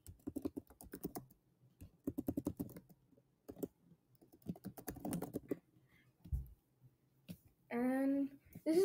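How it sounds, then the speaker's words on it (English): Keys clatter on a Chromebook keyboard in quick bursts of close typing with short pauses between them, and a final burst sounds louder and denser than the rest. "I can open the file manager, the terminal, and type anything"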